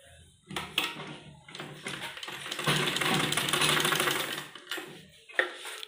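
A sewing machine stitching a baby kurti top runs in a sustained whirring burst of a few seconds, bracketed by short starts and handling clicks, close and without speech.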